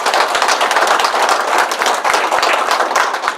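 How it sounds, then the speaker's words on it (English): An audience at a group presentation breaks into steady, close clapping that fills the whole stretch at an even, lively density with no voices over it. "So everybody, please, a round of applause for Leslie."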